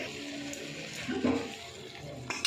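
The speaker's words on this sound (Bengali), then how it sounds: "এবার আমি জল ঢেলে দেবো" Water poured into a pan of potatoes being cooked down, a soft rushing splash swelling in the middle over a low background hiss.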